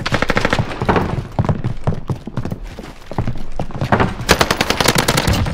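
Rapid automatic gunfire rattles in dense bursts in the Warzone video game, with loud sharp volleys near and far, brief pauses between and a heavier barrage closing it out.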